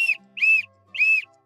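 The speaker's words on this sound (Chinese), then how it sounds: "哦，这是一个口哨，" A small toy whistle from a surprise egg blown three times, short shrill piercing blasts close up, the first clipped and the next two longer and evenly spaced.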